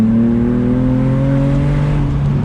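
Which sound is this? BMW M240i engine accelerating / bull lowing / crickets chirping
BMW M240i engine accelerating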